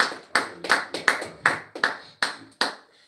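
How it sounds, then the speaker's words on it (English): Congregation clapping in praise during a church service, about ten sharp, separate claps in a loose uneven rhythm, close and clear with no talking. "give him a hand clap of praise."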